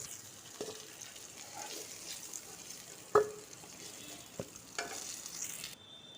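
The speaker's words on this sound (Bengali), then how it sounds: "একটু হলুদের গুঁড়ো ভালো করে আলুগুলোকে ভেজে নেব" Potato pieces fry in hot oil with salt and turmeric powder for a Bengali rui fish curry, a soft steady sizzle broken by a few sharp clinks of a spatula against the pan, with no talking.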